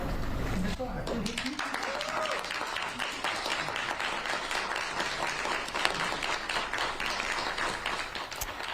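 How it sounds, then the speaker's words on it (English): Sustained applause and clapping from a courtroom gallery for a 69-year-old man just cleared in court, steady and dense throughout with voices and cheers mixed underneath. "A round of applause"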